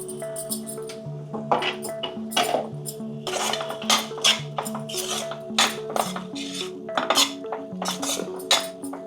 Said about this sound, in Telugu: బాగా కలిపేసుకొని మళ్ళీ ఉడకడానికి ఒక ఫైవ్ మినిట్స్ వదిలేద్దామండి